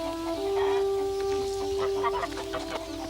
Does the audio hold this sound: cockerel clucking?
yes